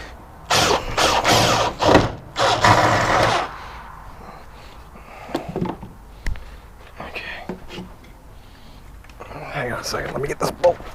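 Impact wrench rattling bolts loose on an 89 Camaro IROC-Z while its front clip is removed, with loud buzzing bursts early on, then scattered clanks and tool noises and later another burst, with people talking nearby.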